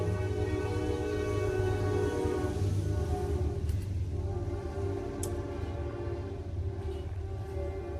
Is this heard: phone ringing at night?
no